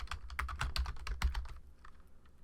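Rapid keyboard key presses on a computer while working in Photoshop Elements, a quick run of about a dozen crisp clicks that thin out near the end, close and fairly loud with no talking.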